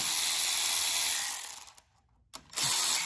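A T30 Torx power driver backs out valve cover bolts on a Kohler 7000 Series engine, buzzing steadily for over a second, cutting out into near silence, then whirring again briefly and close.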